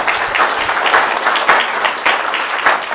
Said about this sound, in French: Vos chauds d'applaudissements prouvent combien vous participez